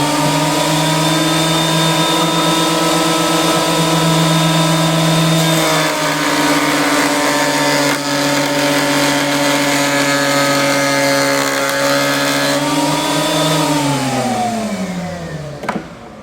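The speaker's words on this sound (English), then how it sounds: "Now I'll turn it sideways and I'll plane this." A 6-inch jointer/planer runs loud and close while a board is fed through sideways, holding a steady droning motor whine before the pitch drops as the machine winds down at the end.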